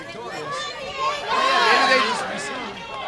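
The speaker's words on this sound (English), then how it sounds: "The crowd yelling for Diego DeMarco to stay down" A pro wrestling crowd at an NWA Force 1 junior heavyweight match yells at Diego DeMarco, a steady roar of many voices that swells in the middle and stays at a distance.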